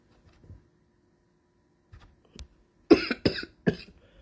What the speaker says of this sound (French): On peut tousser comme ça.